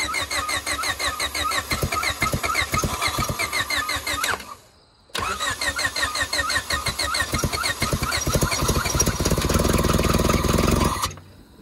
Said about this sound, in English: We're trying to seize the engine.